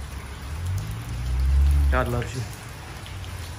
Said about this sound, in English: It's not supposed to rain on the inside.